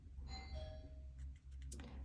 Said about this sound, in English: There's my doorbell.